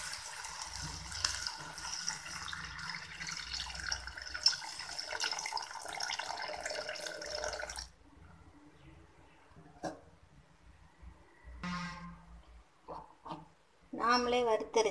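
Tamarind water pours steadily into a pan for several seconds, then stops; afterward come clinks, brief kitchen clatter and a short burst of speech.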